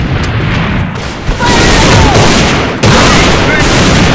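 Loud grenade blasts in the online shooter A.V.A, with two heavy explosions landing close amid continuous gunfire and battle noise that fills the whole clip.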